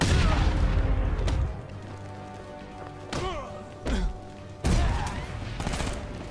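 Gunfire and heavy impacts in the video game Batman: Arkham Knight: a loud burst at the start, then a few separate thumping shots and blasts spaced over several seconds, with game sounds between them.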